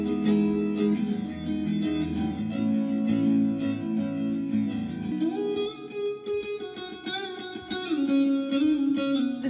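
An electric guitar with distortion plays sustained chords, then shifts to brighter picked notes and bends, loud and continuous with no voices.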